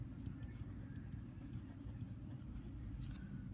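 Faint scratching of a pen or pencil on paper as numbers are written down during a math lesson, steady and quiet over a low background hum.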